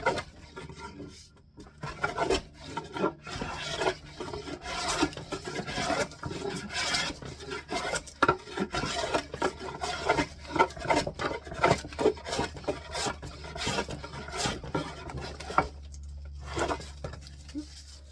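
A hand plane shaves ash wood in repeated close strokes, each a scraping, rustling swish in an irregular rhythm, with no talking.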